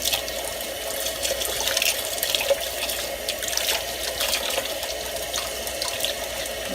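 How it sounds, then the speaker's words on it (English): Water runs from a tap through a sausage casing at a Swedish sausage-making class, a steady, close splashing and trickling flow that continues without voices. "You're trying to open the end, and then you just run the water through this."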